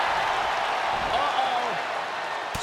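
Crowd noise in the WWE 2K23 wrestling video game, a steady roar of cheering under a commentator's voice, with a brief sharp impact near the end.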